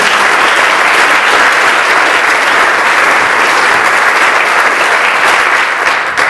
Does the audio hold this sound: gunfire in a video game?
no